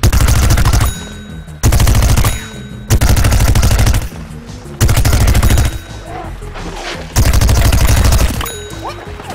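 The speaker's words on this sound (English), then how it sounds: "the ice pea shooter is using his rooted Gatling attack to thin out the zombie horde from a distance" Ice Pea Shooter's rooted Gatling attack in Plants vs Zombies Garden Warfare firing against a zombie horde: loud, rapid machine-gun bursts, five sustained volleys separated by brief pauses.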